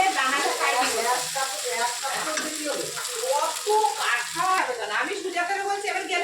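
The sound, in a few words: black cumin seeds spluttering in hot oil with fried loti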